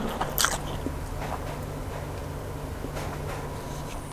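Close-up eating of shrimp pad thai wrapped in egg, with soft wet chewing and a brief crunchy bite near the start, quiet and steady, no speech.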